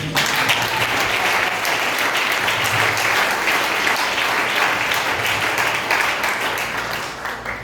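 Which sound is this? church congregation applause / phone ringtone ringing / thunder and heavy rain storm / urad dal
church congregation applause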